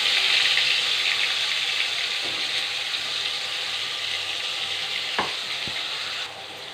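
A ground paste of onion, tomato, ginger and garlic goes into hot oil with popped mustard seeds, producing a loud, steady, close sizzle with a couple of brief utensil clicks. It eases slightly toward the end.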